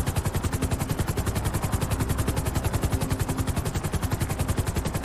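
Helicopter flying in the video game GTA V, a loud steady rotor chop with rapid rhythmic thumping throughout, no talk.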